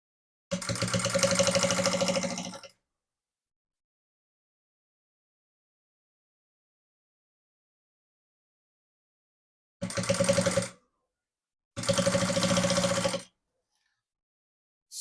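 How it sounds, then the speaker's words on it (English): An electric sewing machine stitching the zipped lining of a beaded bag runs in three close, steady bursts: one about two seconds long, a long silence, then two shorter runs. "Just ignore the excess this way and continue sewing."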